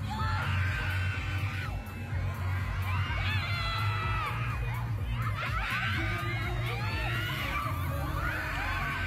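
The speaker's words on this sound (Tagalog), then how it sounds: "Grabe yung mga sigawan." A concert audience at a finale shrieks and screams almost nonstop, high excited cries and cheers surging in waves over a constant low rumble of the packed crowd.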